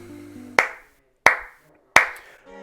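Three sharp, isolated hand claps spaced evenly about two-thirds of a second apart, close and crisp with silence between them.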